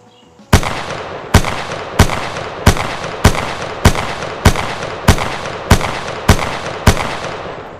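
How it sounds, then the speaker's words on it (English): About ten single gunshots fired down range at a shooting range, loud and sharp, each one cracking out at a steady pace of under a second apart with no talking between them. "going to fire just down range"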